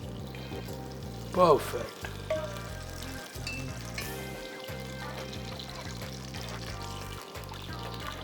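Ghee, clarified butter, is poured into a hot pan while cooking chicken wings, giving a short trickle and sizzle over a steady background frying hiss, with a brief spoken word from the cook.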